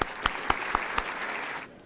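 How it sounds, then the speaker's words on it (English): An audience at a corporate energy event claps in a steady wash of applause, with a few sharp individual claps standing out at regular beats before it fades. "So a big applause"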